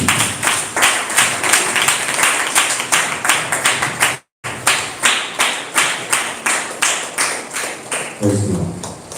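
A church congregation at a Telugu Christian service claps in steady unison, the sharp rhythmic beats filling the room, with one brief pause midway and a few scattered voices near the end.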